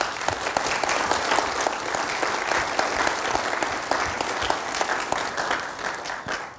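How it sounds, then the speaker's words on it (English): A conference audience applauds the organizers at a cybersecurity event, a steady, dense wash of many hands clapping that fills the room at an even level from start to finish, with no voices over it. "So I would like to have an applause to organizers of this conference,"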